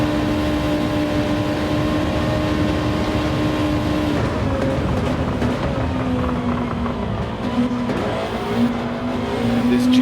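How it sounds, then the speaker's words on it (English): GR2 race cars at the Nurburgring circuit: a loud, sustained high-revving engine whine with tonal pitch shifts as gears change, steady and close throughout, joined by rising engine notes in the final seconds. "GR2 cars here, they reach up to 300 kilometers per hour"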